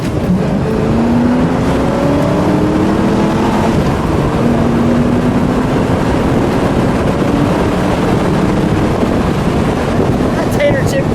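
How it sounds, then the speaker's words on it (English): A red 1986 Ford Mustang GT convertible with a 5.0-liter engine and five-speed manual accelerates, its engine note climbing steadily and loud under heavy wind rush from the open-top ride. "gonna give this one a little acceleration."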